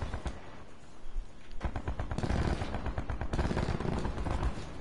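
Rapid automatic gunfire in the video game Black Ops 4, with dense overlapping bursts of shots that grow louder and more continuous partway through and keep going to the end.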